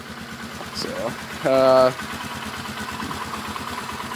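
A 2011 Polaris Sportsman 500 ATV engine idles steadily in a cold garage, a fast low rhythmic putter throughout, heard close and loud beneath a man's speech.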